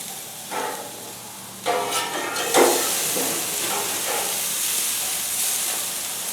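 Burger patties with wine sizzle on a hot cooking surface, a steady hissing fry with a few louder bursts of spatter near the start, continuous and close with no talking.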